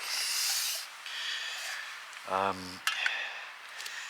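A metal pot clatters briefly, with a short ringing scrape and a couple of clinks against a soft background hiss.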